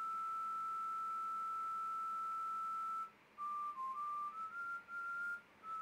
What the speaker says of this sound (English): the whistling sounds really bad in the headphones I'm using.